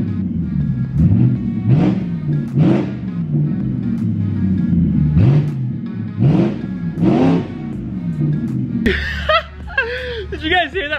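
Straight-piped BMW 650i with a 4.8L V8 revved repeatedly, about seven loud raspy blips rising and falling in quick succession, then a deeper idle rumble as people laugh and chuckle nearby.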